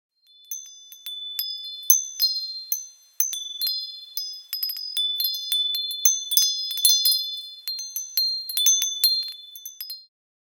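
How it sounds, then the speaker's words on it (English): Wind chime with metal rods struck in quick, irregular clusters, bright ringing tones layering and decaying, clear and near with no other sound around them. "The answer is wind chime."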